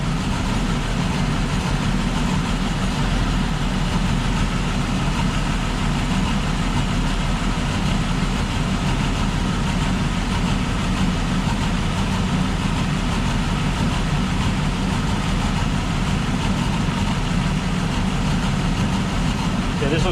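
A 2005 Ford Escape 3.0 V6 idles with a misfire, a steady low rumbling engine drone throughout, with a voice talking over it.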